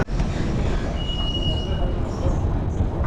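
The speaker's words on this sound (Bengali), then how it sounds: "আমাদের ট্রেন চলে গেল হাওড়া ময়দানের উদ্দেশ্যে" A Kolkata metro train pulls away toward Howrah Maidan with a continuous low roar and a thin high whine from the wheels, steady throughout at close range.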